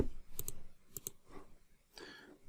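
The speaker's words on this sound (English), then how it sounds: "Typing too quick for my own good." Computer keyboard keys click in short bursts, a few quick pairs of sharp taps separated by brief pauses, close and fairly quiet while someone writes code.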